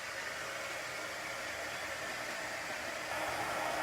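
Hair dryer blowing on a chalk transfer screen, a continuous close hiss-like whoosh that holds steady and gets slightly louder near the end.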